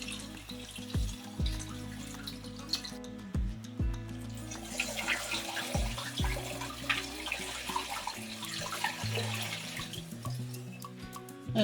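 Filtered water is poured into a five-litre glass demijohn for rhubarb wine, a gurgling splashing stream broken by hollow glugs and drips, heard up close and quiet, with no speech.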